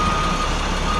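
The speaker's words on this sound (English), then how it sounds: "make sure my backup alarm is working" A school bus backup alarm sounds as a steady, loud electronic tone over the idling diesel engine, filling the whole second with no talking.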